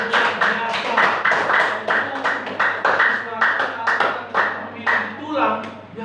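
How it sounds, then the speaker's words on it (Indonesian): A classroom of children claps for a student named Diva, sharp rhythmic hand claps in quick bursts, close by with voices mixed among them. "tepuk tangan buat Diva"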